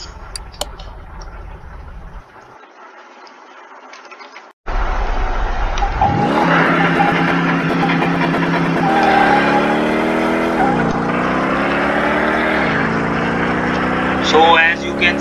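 A Shelby Daytona Coupe sports car accelerates hard on a racetrack, its engine note climbing loud and close through several rising gear sweeps, with a brief shift dip before pulling again to a strong finish.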